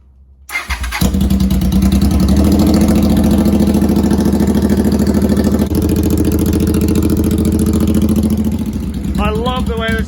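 A Honda Shadow 500 motorcycle with an X-pipe exhaust starts cold and settles into a loud, close, lumpy idle that runs steadily for several seconds; a voice speaks briefly at the end.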